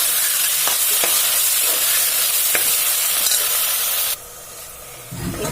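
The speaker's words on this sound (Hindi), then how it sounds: "अब हम प्याज के लाल कर लीजिए।" Onions fry in hot oil for a Bihari-style dal fry tadka, a loud continuous close sizzle with a few sharp stirring clicks; the sizzle cuts out abruptly near the end, then returns softly.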